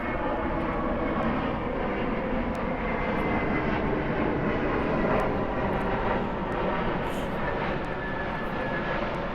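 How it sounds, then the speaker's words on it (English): A fixed-wing airplane passes overhead as a loud, steady engine roar that fills the whole stretch, holding broad and constant throughout with no one talking. "Sometimes these planes pass by and they're really loud, and so I like to pause for that bit."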